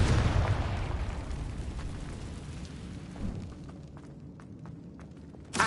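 A Confringo explosion spell in the video game Hogwarts Legacy gives a loud burst at the start, followed by a rumbling decay that fades over several seconds.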